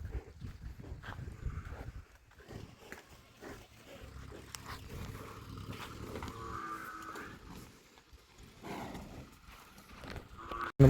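Water buffalo lowing in an open cattle shed, several drawn-out moos rising over steady rustling and movement, fairly close and moderately loud across the stretch.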